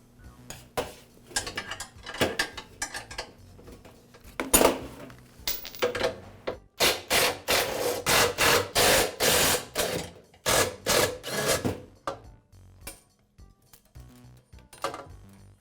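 A ratchet wrench removes the handle fasteners on a Yard Machines lawn mower, with short clicking bursts at first and then a long run of rapid, rhythmic ratcheting strokes, close and clear with no talk.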